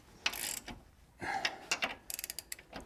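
A torque wrench ratchets while re-torquing leaf spring bolts, producing quiet, close mechanical clicks that end in a quick run of evenly spaced ratchet ticks.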